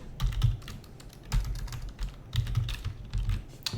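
Computer keyboard typing while writing code for a Flask web app, with quick irregular bursts of close keystrokes and short pauses between them.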